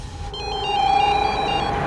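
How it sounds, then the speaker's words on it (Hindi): Telephone ringback tone on an outgoing call, a steady electronic ring pulsing at moderate loudness with faint background hum and no voices. "पहले तेरे उस रामकरण को फोन कर दूं।"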